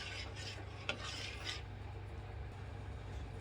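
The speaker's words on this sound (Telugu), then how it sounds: "చిన్న మంట మీద మనం ఇలానే కంటిన్యూస్గా కలుపుతూ ఉండాలి" A spoon scrapes and rasps through Karachi halwa mixture thickened with cornflour in a pan over a low flame, with a few brisk strokes at first, then a steadier, softer stirring.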